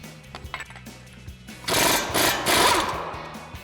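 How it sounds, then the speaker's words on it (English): A pneumatic impact wrench with a 35 mm axle socket loosens an axle nut on a 2021-2023 Ford Bronco, rattling in a loud, sustained hammering burst after a few quieter clicks and knocks. "grab our 35 millimeter axle socket on our impact and go ahead and loosen up our axle nut"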